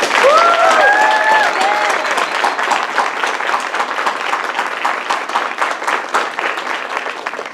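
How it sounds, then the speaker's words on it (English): A large graduation audience applauds supporting groups and staff, dense sustained clapping that fills the space, loud and steady before tapering slightly, with a few brief whistles or cheers near the start. "let's give them a round of applause"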